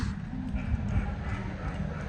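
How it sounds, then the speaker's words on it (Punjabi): Hooves clip-clop at a steady pace as horses pass nearby, with a low rumble and faint murmur of voices behind. "ਵੇਖੋ ਘੋੜੇ"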